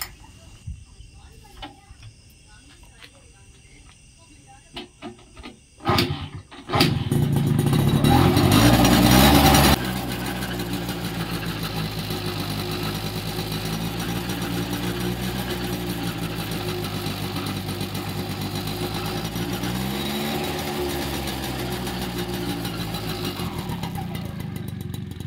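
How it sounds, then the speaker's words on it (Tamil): A repaired vehicle's engine cranks and catches after a few quiet moments. A loud burst of revving follows, then it settles into a steady, rumbling idle that lasts. A person talks over parts of it. "இப்போ வண்டியை ஸ்டார்ட் பண்ணி பார்க்கலாங்க."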